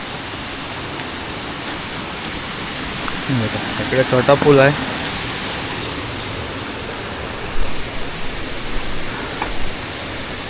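Rushing river water swollen after heavy rain flows near a small bridge as a steady broadband roar, with someone speaking briefly over it.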